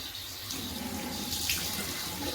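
Warm water runs steadily from a faucet into a sink, a continuous close splashing stream with no talk over it.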